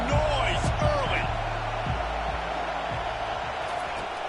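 Stadium crowd noise in a football video game: a steady wash of cheering and roar fills the whole stretch, with a commentator's voice on top and a few thumps early on.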